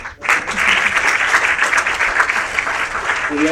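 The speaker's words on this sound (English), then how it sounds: "Claps." A room of people bursts into sustained applause after a sudden start, with dense, even clapping that holds steady for several seconds.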